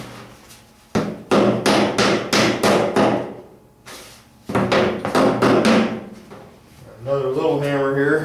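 Two quick runs of sharp blows from a small-headed hammer on dragster body panels, close by, a pause between them, and a short ringing, wavering tone at the end.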